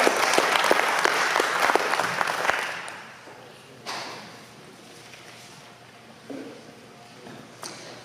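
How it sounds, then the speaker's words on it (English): Community health center audience applauds warmly for the caterer. The clapping is strong at first, fades out within about three seconds, and a few quiet thuds and shuffles follow. "Let's give them a round of applause."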